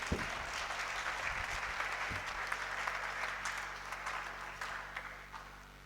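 A church congregation claps steadily for the word of the Lord during a sermon, a fairly quiet, sustained patter of many hands over a low steady hum, without talk.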